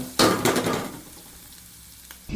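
Okra dropped into a hot tempering in a pan, giving a sudden loud burst of sizzling with a couple of clattering hits that quickly fades to a quiet simmer, close up.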